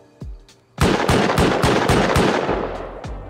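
Gunfire in the game Rust, a loud close burst of about eight rapid shots with ringing decay, preceded by a couple of fainter shots and trailing off into softer distant pops.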